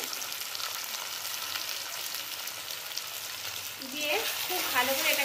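Chopped tomato with spices and salt sautés in a pan for a Bengali palak chicken, producing a bright continuous sizzle with stirring scrapes that grows louder near the end, where a brief voice is also heard.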